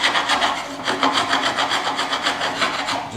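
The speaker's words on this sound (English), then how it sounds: "I just take the wood chisel and just try to scrape off any excess glue" A sharp wood chisel scrapes excess dried glue off glued-up narrow boards, giving a steady rasping rhythm of quick repeated strokes, close and fairly loud, with no talking.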